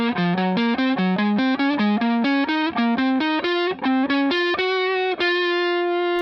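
Electric guitar with distortion plays a fast scale pattern: a string of short, loud, clipped notes stepping up and down in a steady rhythm, ending on a longer sustained note, with no talking.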